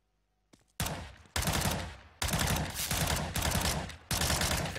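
Rapid bursts of automatic gunfire from a CS:GO one-on-one match, five loud close-up volleys separated by brief gaps after a quiet start with a few faint clicks.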